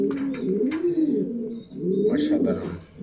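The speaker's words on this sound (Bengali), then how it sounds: "দুটাই ভালো ব্লাড লাইনের কবুতর ইনশাল্লাহ।" Pigeons of good bloodline coo close by in a loft, several rolling, repeated coos in two main bursts with a brief pause between, plus a few faint higher chirps.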